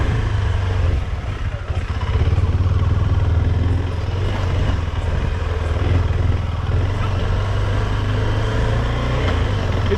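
Steady engine drone of a KTM 390 Adventure motorcycle being ridden, a continuous low hum with wind noise held at an even level throughout.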